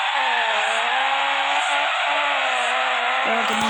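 A car in the mobile drifting game FR Legends holds a long, loud, continuous engine drone with a steady tire-screech layer, slightly wavering in pitch as the drift goes on.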